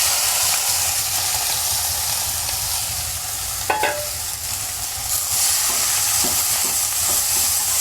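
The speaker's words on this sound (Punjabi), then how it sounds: "ਹੁਣ ਆਪਾਂ 2 ਮਿੰਟ ਪਿਆਜ਼ ਭੁੰਨਾਂਗੇ" Onions fry with cumin in hot oil with a steady, close sizzle and hiss throughout, broken by a brief metallic scrape of stirring.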